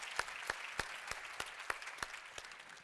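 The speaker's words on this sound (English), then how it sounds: "Let's give her a round of applause for those remarks." Audience at a global health conference clapping, distinct individual claps in a sparse, irregular rhythm from a fairly small crowd, quiet and somewhat distant.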